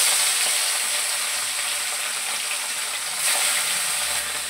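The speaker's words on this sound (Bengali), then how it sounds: "এবার আমি মাছটা ভেজে নেব। আমি মাছটা একটা একটা করে দিয়ে দেবো।" Fish coated in turmeric and salt frying in hot oil in a wok makes a loud, close, continuous sizzle that swells briefly partway through.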